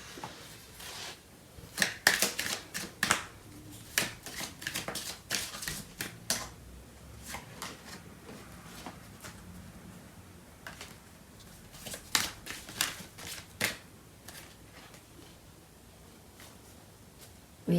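Tarot cards are shuffled and drawn at close range, giving crisp riffling clicks and flicks in irregular clusters, some quick and sharp, others sparser, against a quiet room without speech.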